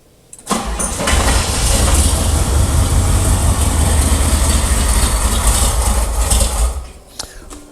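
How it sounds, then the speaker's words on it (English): An Oldsmobile Rocket V8 in a barn-find square body truck cranks and fires, then runs loud and rough close by with a deep rumble for several seconds before cutting off. "let's get the rocket fired up"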